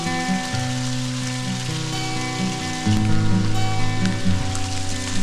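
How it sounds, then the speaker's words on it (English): Steady rain patters on a surface in the Albanian Alps between Valbona and Theth, alongside a constant low engine-like hum with shifting tones; no voices. "Yay for rain."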